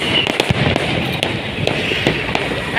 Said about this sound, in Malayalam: പടക്ക പോയി പൊട്ടാൻ തുടങ്ങിയിട്ടാ.